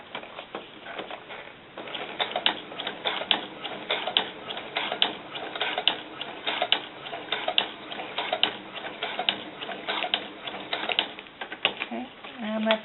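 A sewing machine stitches fabric for doll-sized snakeskin boots, a busy, steady mechanical patter that runs close and fairly loud almost throughout, with slight pauses and shifts in pace.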